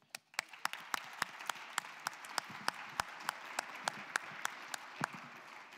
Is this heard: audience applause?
yes